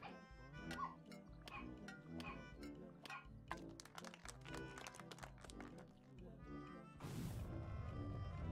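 Dog barking and yipping in the golf video game What the Golf, sharp repeated yaps over game music and effects, ending in a burst of noisy crashing.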